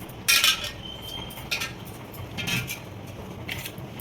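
Chana masala being stirred in a pot after a bunch of fresh coriander goes in, giving a few scattered clinks and scrapes of a spoon against metal, fairly quiet and spaced apart, with no talking.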